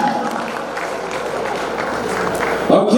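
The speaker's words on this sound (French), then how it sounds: "Des applaudissements pour eux, s'il vous plaît." Audience applause at the opening ceremony of the 4th African Awards of Washington, honoring the jury members; steady dense clapping fills the hall throughout, with a sharper louder burst near the end.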